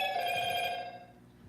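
Telephone ringing with a bright electronic bell tone, one sustained ring burst that fades out after about a second, heard at moderate volume during a live talk stream.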